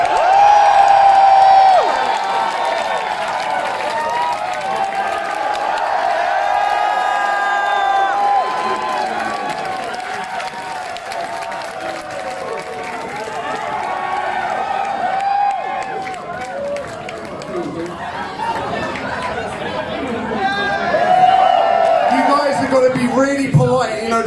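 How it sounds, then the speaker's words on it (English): Concert crowd at the Sonic Adventure Music Experience 2019 at The Garage in London cheering, whooping and clapping continuously between songs, loud and close, swelling again near the end. "The more you cheer, the more energy that the band has"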